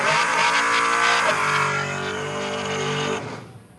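A white Malibu drag car in a wheelie contest roars at full throttle close by, its engine note holding a loud, steady howl for about three seconds before cutting off abruptly.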